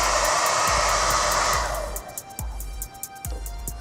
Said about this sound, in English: So you can lay that down, use a blow dryer.